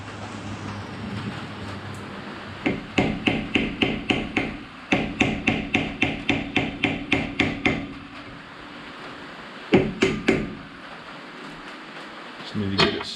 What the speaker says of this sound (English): I'm going to need to tap that in with a hammer very gently.